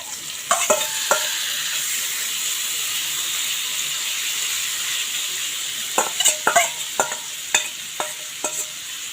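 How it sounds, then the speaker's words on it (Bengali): Chicken mince sizzles steadily in a hot pan with a constant frying hiss, broken by sharp clusters of stirring scrapes and clicks near the start and again toward the end; no one speaks. "কিমা ভাজা কমপ্লিট"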